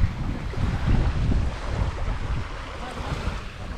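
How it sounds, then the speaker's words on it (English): Waves wash onto a beach on Kefalonia in a continuous rolling surf, with heavy wind buffeting the microphone and no talking. "Nice beach."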